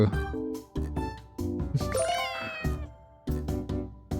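Cartoonish cat meows from the video game Cats and Seek Kyoto, a series of loud, close, drawn-out mews in quick succession with short gaps between them, including one longer wavering yowl.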